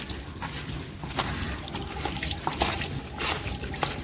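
Mint leaves rinsed under a running kitchen tap, with continuous splashing water and scattered drips and sloshes as the leaves are handled, close and moderately loud, with no talking.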